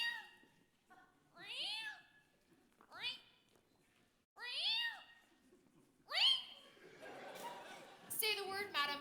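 Cat meows performed in a school stage play of Peter and the Starcatcher, several rising and falling meow-like calls spaced across the clip, likely a human voice imitating the cat, followed by laughter and chatter from the audience.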